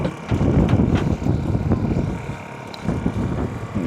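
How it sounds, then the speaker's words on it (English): Steady wind buffets the microphone outdoors at a flea market, a loud continuous low rumble with gusty surges and a few faint clicks. "Oh, kind of windy around here."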